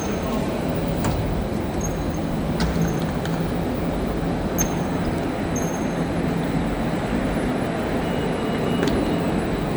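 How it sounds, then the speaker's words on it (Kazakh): An M2 metro train bound for Yenikapı stands at a busy station, its steady rolling rumble filling the space, with a few sharp metallic squeals and clicks, while people move and talk in the background. "Міне М2 Ені капы деген пойыз"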